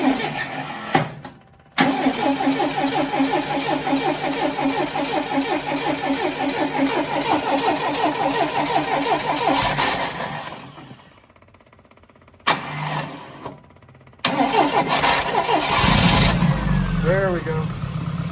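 A motor cranks on its starter button with throttle applied, catches and runs at a steady rough idle for several seconds, cuts out to near silence, then restarts briefly twice, with a voice talking near the end.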